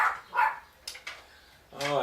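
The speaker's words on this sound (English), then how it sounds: "Oh, I love it when my mom's dog barks." A dog barks in a few short, sharp bursts indoors, close by and fairly loud, with quieter gaps between the barks.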